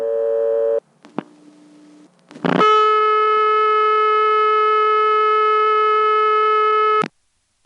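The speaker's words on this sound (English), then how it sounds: "on the second one you cut into a trunk that gives you this high-pitched tone" A 1976 step-by-step telephone office in Colonial Beach, Virginia, gives a few brief clicks and low tones, then a loud, steady high-pitched trunk tone holds for about four and a half seconds before cutting off abruptly.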